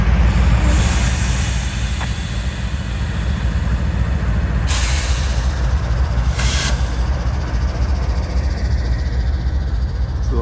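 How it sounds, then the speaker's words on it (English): Train rolling past close by, a loud steady rumble of wheels on rails with high squeals rising over it at intervals, heard alone. "There's the train."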